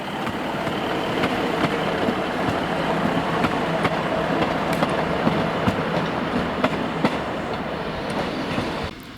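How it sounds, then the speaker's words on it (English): A Class 150 diesel train runs through Wrexham station on the Borderland Line, giving a loud, continuous rumble with rhythmic wheel clicks over rail joints and a faint squeal as it passes close by. "Here the train seen previously now returns from Wrexham Central on the next train to Bidston."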